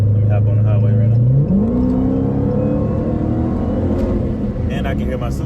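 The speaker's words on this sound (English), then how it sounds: "And I can hear my supercharger louder now." Dodge Challenger Hellcat with Magnaflow exhaust and supercharger pulling on a highway, a loud steady engine drone climbing in pitch with supercharger whine on top, heard from inside the car.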